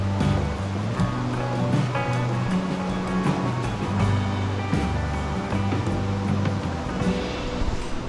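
Fast-flowing river water rushing under a bridge, a loud continuous roar and wash that fills the whole stretch, steady and close with no voices.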